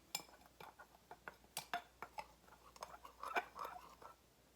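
A utensil clinks and scrapes against a bowl while cornstarch and flour are mixed together, a series of light, irregular taps and scrapes, quiet and close, with no talking.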